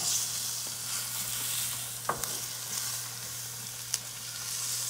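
Rice grains toasting in a hot pan for a vegetable risotto give a steady, bright sizzle throughout, with a few sharp stir clicks of a utensil against the pan and a low steady hum beneath.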